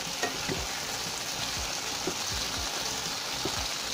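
Okra and small sarputi fish sizzle in a covered pan, a continuous crackling fry up close with occasional low thumps from the pan.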